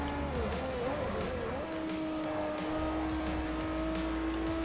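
A race car engine in Forza Motorsport 4 drones steadily at high revs, with a sustained tonal whine that wavers early then holds level, constant and fairly close throughout without speech.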